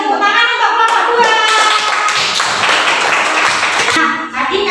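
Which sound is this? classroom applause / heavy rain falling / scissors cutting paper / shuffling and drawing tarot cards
classroom applause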